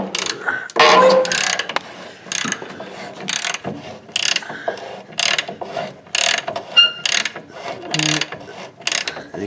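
Ratchet wrench with a 24 mm socket working a leaf spring bolt on a Dodge Ram 2500 Cummins truck, a run of loud, close clicking bursts in uneven spurts with short pauses between pulls.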